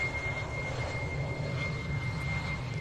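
A Falcon jet arriving at the Royal International Air Tattoo makes a steady, fairly faint engine roar with a constant high whine, heard from a distance through the whole short stretch.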